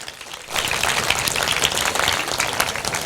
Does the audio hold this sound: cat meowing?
no